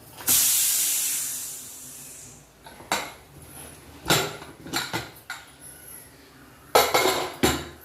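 A pot of mushroom biryani is uncovered after slow dum cooking, releasing a loud burst of hissing steam, followed by several metallic clinks and scrapes of a lid and utensils against the pot.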